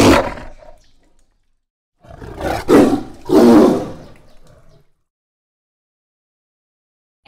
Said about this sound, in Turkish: Bu bir kaplan. Hadi biz de kaplan gibi kükreyelim.